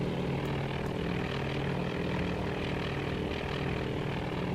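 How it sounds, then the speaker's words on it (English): Droning propeller aircraft engines from a group of carrier planes in the naval combat game Task Force Admiral, a steady, dense roar that fills the whole stretch without letup. "Bunch of planes."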